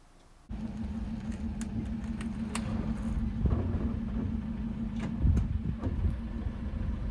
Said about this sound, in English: We rolled our truck right over it